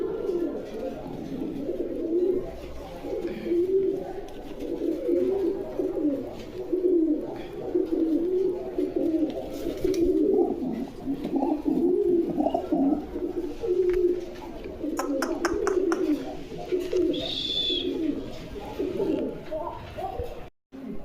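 Pigeons at a pigeon farm give a steady stream of low, rolling coos, several birds overlapping close by, with faint background chatter and rustling.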